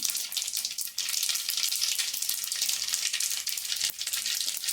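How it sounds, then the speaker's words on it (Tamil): Mustard seeds and garlic fry in hot oil in a kadai, giving a steady, bright, close sizzle that runs the whole time, broken by a couple of brief dips and faint crackles. "அடுப்பில் கடாய் வச்சு எண்ணெய் ஊற்றி கடுகு போடுறோம். கடுகு போட்டதுக்கப்புறம் பூண்டு போடலாம்."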